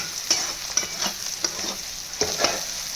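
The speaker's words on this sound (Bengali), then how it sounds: "ছোলার ডাল আর পেঁয়াজগুলো মোটামুটিভাবে ভাজা হয়েছে।" Chana dal and onions sizzle in a hot pan while a utensil stirs and scrapes in a steady rhythm, close up with no talking.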